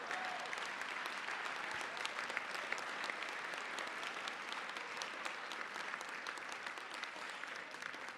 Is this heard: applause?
yes